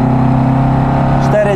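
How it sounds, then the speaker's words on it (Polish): A Lancia Fulvia Berlina engine is held at high revs after a downshift, a steady, loud, buzzing mechanical tone heard from inside the car, with someone talking over it. "żeby Lancia zaczęła żyć, to trzeba jej dodać gazu i zredukować bieg."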